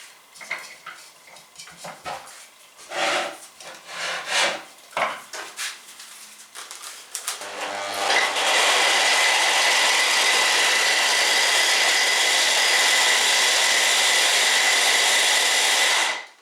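A small kitchen blender grinds pieces of toast bread into crumbs, starting after some clattering of dishes and handling, then whirring loudly and steadily for several seconds before cutting off.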